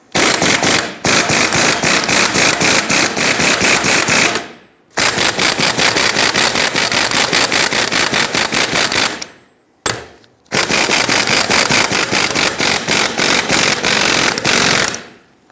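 A pneumatic air impact gun hammers on the pivot stud of a steering linkage during idler arm and pitman arm replacement on a 2007-2014 Chevrolet Silverado 2500 HD, firing in three long, loud, rapid rattling bursts with short pauses between them.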